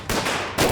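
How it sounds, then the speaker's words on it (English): Gunfire erupts at a 1934 gangster shootout at the Little Bohemia lodge, a loud dense burst of shots filling the short moment with a fresh volley at its end. "gunfire. That's new."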